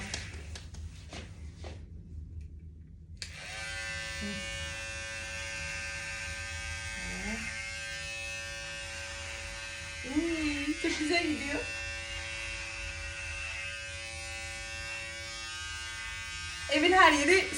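Electric hair clippers buzz steadily up close for a long stretch, a constant droning hum with people talking over it.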